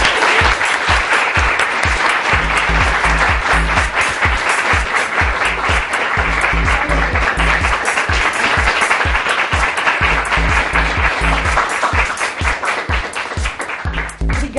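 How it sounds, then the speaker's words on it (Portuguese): A studio audience honoring a film director breaks into loud, sustained applause, a dense, even wall of clapping that runs for nearly fifteen seconds and thins slightly toward the end. "Gente, eu quero pedir uma salva de palmas pro Bruno Barreto."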